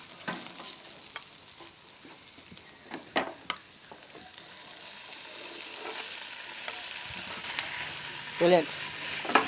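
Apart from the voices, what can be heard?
kangaroo meat with roux browning and sizzling in a pan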